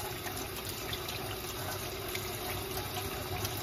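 A kitchen faucet runs for rinsing hands, its water set a little too hot, making a faint, steady splashing stream that continues unbroken throughout.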